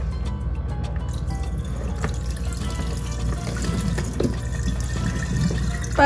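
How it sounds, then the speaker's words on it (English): Dried hibiscus flowers are rinsed under running water, a continuous close trickle and splash with small drips and clinks throughout and no voices. "Boom, I'm gonna rinse these off."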